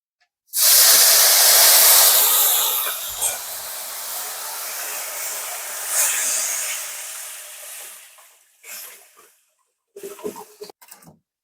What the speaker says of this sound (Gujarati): લીમડાનો તડકો મારી દીધો